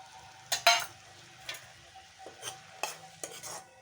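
Lychee chutney being stirred in a pan with a utensil, giving a few soft, separate scraping strokes close by at a low level, with no talking.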